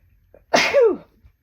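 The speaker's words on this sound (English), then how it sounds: "Hold on, I'm gonna sneeze." A single close, sharp sneeze bursts out, breathy and abrupt, then trails off into quiet.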